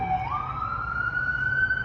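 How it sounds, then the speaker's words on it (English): A siren wails steadily, its pitch rising and then holding high and loud, with no voices. "Hear the siren?"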